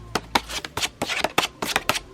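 Thick cardboard daily and monthly planner cards handled and shuffled close by, giving a run of about eight crisp, papery flicks and slaps in a quick uneven rhythm.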